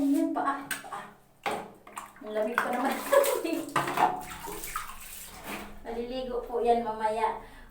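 Water splashes and runs over a dog's feet while people talk over it, with clattering and a tap-like flow in between the voices.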